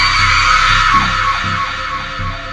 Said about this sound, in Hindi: और वह एक भयानक चीख के साथ आसमान की ओर चिल्लाई।